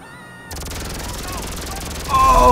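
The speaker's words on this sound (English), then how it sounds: "Oh, it's like a Superman laser" Widow Maker laser space gun in GTA 5 firing a steady, continuous futuristic stream, loud and unbroken, swelling louder near the end with a rising whine; no talk.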